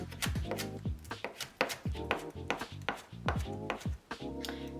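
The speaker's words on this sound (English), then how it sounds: "for the first one, chop the green onion" A knife chops spring onion on a cutting board for a seared salmon sushi dish, giving quick, uneven, close sharp taps in short bursts with small pauses between them.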